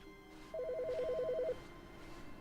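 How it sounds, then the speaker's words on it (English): A phone rings in The Stanley Parable video game, one rapid trilling electronic ring lasting about a second over a quiet room hum, with no talk. "There's another phone call."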